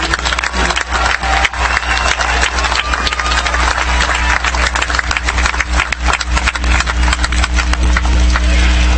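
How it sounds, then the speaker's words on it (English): Loud, sustained applause fills a large commencement hall for the School of Engineering graduates, a dense wash of many hands clapping continuously. "Let's give a round of applause for the graduates from the School of Engineering"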